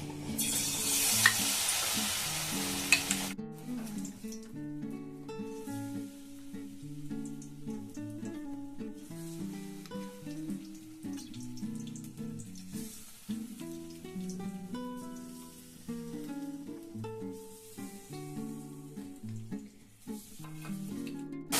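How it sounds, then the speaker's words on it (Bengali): Battered cauliflower florets drop into hot oil and give a loud, close, broadband sizzle for a few seconds before melodic background music takes over, with faint frying underneath it. "তেল গরম হয়ে গেছে তো দেখুন আমি এভাবে নেব আর ফুলকপিগুলোকে ভেজে নেবো"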